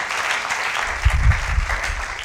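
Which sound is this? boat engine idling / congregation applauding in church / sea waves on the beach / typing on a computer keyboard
congregation applauding in church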